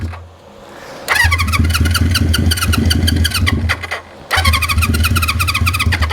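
A 1973 Honda CB350 Four motorcycle engine cranks and catches, then runs with a steady, loud four-cylinder idle, cuts out briefly near the end and fires up again.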